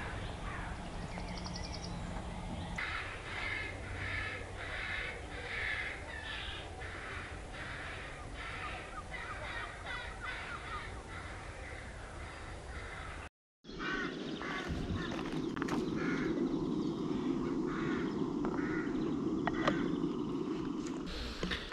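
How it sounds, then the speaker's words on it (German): Crows and ravens cawing in the early morning in Sweden, repeated harsh calls in a steady rhythm from birds at mid distance, with a brief gap partway through and a louder, busier stretch after it. "hier geht's seit 5 Uhr oder so, geht's hier ab mit Raben am Rumkrächzen und Krähen"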